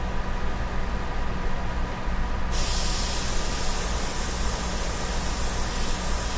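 Airbrush spraying sepia-toned paint on a portrait, a steady close hiss of air and paint flow that brightens and sharpens midway, running continuously with no talk.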